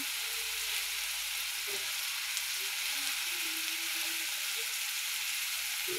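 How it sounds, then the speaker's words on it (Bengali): Shrimp and thin taro stolons sizzle in a pan while being stirred, a steady close frying hiss with soft scraping and shifting sounds rising through it. "এখন দিয়ে ভালো করে নেড়ে চেড়ে নেব"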